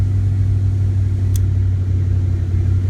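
A 1993 Ford Mustang LX 5.0 convertible runs in drive, giving a loud, close, steady low engine rumble that holds evenly throughout, with no voices.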